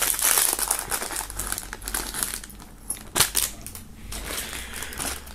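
Plastic foil wrapping crinkles and crackles continuously while a subscription box of merchandise is unpacked, with close, busy rustling and a sharper crunch partway through.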